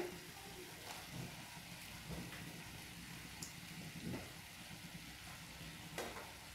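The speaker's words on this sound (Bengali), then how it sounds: "এটা জাস্ট একটু দিয়ে সতে করে নামিয়ে নেব" Carrot, capsicum, onion and chili sautéing in a pan, a steady close sizzle with faint scraping stirs every second or so, no voices.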